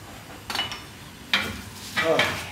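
Spinach wilting in a hot pan brings three short bursts of sizzling and scraping, like stirring against the metal, separated by quiet gaps.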